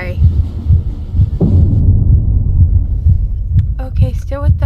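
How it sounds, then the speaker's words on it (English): A loud, steady heartbeat effect in a horror video game about a dark stranger on a train throbs low and regular through the clip, with a few brief higher sounds near the end. "Okay, still with the heartbeat."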